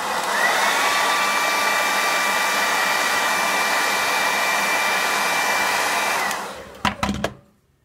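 Hair dryer heating the adhesive of a GoPro helmet mount, blowing in a loud steady whir for about six seconds before it switches off and winds down, followed by a few brief knocks.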